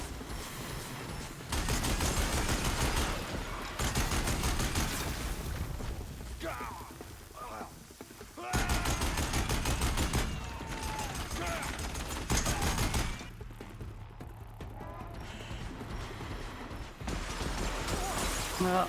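A Deathbringer gun firing in a video game, long sustained bursts of rapid heavy fire in several blocks, loud and close with mechanical clatter, broken by brief quieter gaps.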